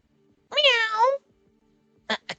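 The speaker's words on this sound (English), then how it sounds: "Meow! A cat?" A cat in the video game Tengoku Struggle gives one clear, drawn-out meow, followed after a pause by a few short, sharp sounds.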